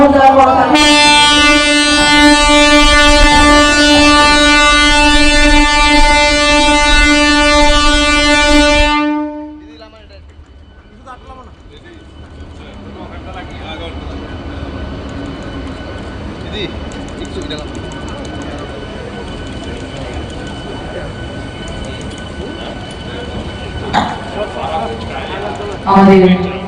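The first MEMU passenger train on the Agartala–Karimganj route sounds a loud, steady horn that holds for about nine seconds, then cuts off, leaving the murmur and chatter of a crowd at the inauguration.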